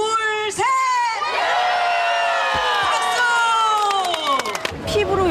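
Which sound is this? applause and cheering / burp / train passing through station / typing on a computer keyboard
applause and cheering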